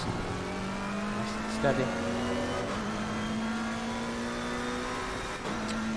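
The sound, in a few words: race car engines in the video game Assetto Corsa Competizione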